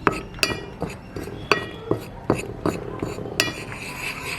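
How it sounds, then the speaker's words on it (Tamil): A utensil taps and scrapes against a bowl while beaten egg is mixed with chilli powder, salt and pepper for crispy egg fingers, giving a series of bright clinks in an uneven rhythm, close and fairly loud, with no talking. "எல்லாத்தையும் கலக்க போகிறோம்."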